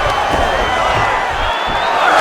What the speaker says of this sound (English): crowd absolutely loving it as the fighters, however compromised, make their way back to the field